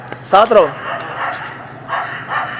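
A dog gives a short pair of barks near the start, loud and close, followed by indistinct talk or background noise for the rest of the clip.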